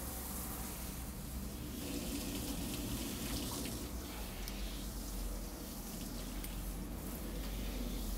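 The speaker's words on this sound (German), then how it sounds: "Zwischendurch kann man das Shampoo einmal ausspülen und wieder mit warmem Wasser." Warm water spraying to rinse shampoo off a dog at a self-service dog wash, a steady hissing stream that runs continuously, close and fairly quiet, no talk.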